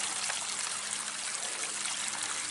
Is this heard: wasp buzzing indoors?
no